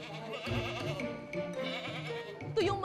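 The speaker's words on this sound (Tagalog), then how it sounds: "Ito yung mga mommy kambing nila na gagatasan na natin." Dairy goats on a goat farm bleat in quick succession, nearby and fairly loud, with wavering, nasal cries overlapping one another.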